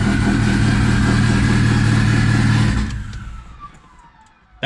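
Turbocharged D16Y8-engined Honda Civic firing up for the first time: a loud, steady engine roar for nearly three seconds, then dropping abruptly to a quieter, fading idle-like rumble.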